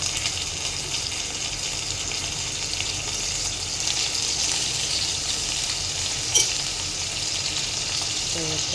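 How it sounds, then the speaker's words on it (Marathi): Oil crackles and sizzles steadily in a hot, dry wok while drumstick vegetable curry is prepared, a loud bright hiss with a few sharper pops, no voices. "2 पळ्या तेल टाकून द्यायचं."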